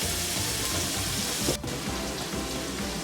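Garlic and onions frying in a pan for kare kare, a dense, steady sizzle close by with a brief clatter in the middle.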